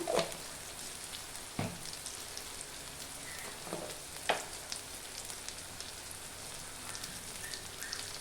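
Chili powder crackles and sizzles as it hits a boti curry frying in a pan, a continuous close hiss with a few sharp pops and utensil clicks and no talking.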